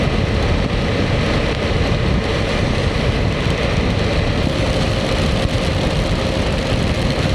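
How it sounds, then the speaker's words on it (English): Rain hits a rider on a motorcycle, heard as a dense, constant roar of wind, water and engine rumble at steady loudness, with no speech. "I'm sitting here riding in the rain"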